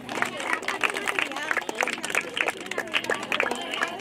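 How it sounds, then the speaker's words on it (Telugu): A crowd at a Dasara Bathukamma celebration in Kalwakurthy claps in a patchy, uneven way. Distant voices and murmuring chatter run underneath the clapping. "ఒకసారి అందరు గట్టిగా చప్పట్లు."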